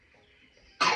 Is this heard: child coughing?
yes